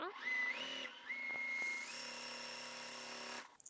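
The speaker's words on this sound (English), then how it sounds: "Sew down the middle" Home sewing machine stitching down the middle of quilt fabric pieces, a steady whirring motor hum that speeds up in steps and holds, close and alone.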